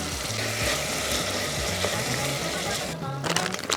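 Chopped vegetables and garlic sauté in a hot pan before tomatoes go in for a mussel dish, giving a steady, loud, close sizzle that runs without a break and with no talking.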